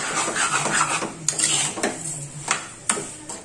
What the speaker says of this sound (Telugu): ఈ షుగర్ ను ఈ రవ్వకు బాగా కలిసేటట్టు కలుపుకోవాలి